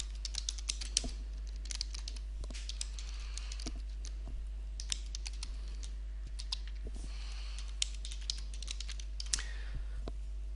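Soft, uneven tapping on a computer keyboard as text goes into a flowchart box, close and quiet over a low steady hum, with no voices.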